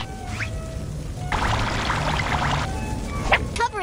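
Water pours from a tap onto a towel to wet it, a steady broadband splash running for about a second and a half, close and alone, with a couple of faint trickles before and a brief clatter at the end.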